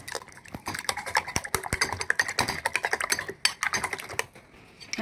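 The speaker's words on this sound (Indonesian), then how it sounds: "Terus kita aduk teman-teman," A fork or whisk beats eggs with salt in a bowl, producing rapid irregular clicking and tapping against the sides, close up and steady for several seconds with no talking.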